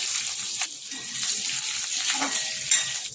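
Mustard seeds, asafoetida, curry leaves and green chillies crackle and sizzle in hot oil for instant tam tam khaman, a steady bright hiss with scattered popping, close and continuous.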